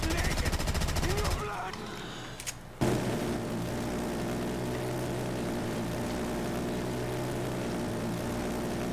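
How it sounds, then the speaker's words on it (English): Death Machine minigun in a custom zombies survival game, a loud continuous mechanical drone that starts after a brief dip and holds steady to the end, with a busy clattering burst at the start. "these bullets right here for this death machine are funded by the town"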